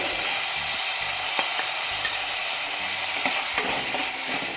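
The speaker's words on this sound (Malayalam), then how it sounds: "ഇനി ഇതിലോട്ടേക്ക് ഒരു സവാള നീളത്തിലരിഞ്ഞതും കൂടി ചേർത്ത് കൊടുക്കുന്നുണ്ട്." Sliced onion sautéing in oil in a pan for a yam (chena) dish, a steady close sizzle with occasional soft stirring scrapes, no talking.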